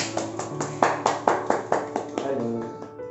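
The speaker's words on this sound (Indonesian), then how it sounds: "Kita sambut dengan tepuk tangan yang meriah." Parish church congregation clapping at a vocations Sunday gathering, heard as a series of fairly loud, rhythmic claps, roughly evenly spaced, with a low hum and some faint voices beneath.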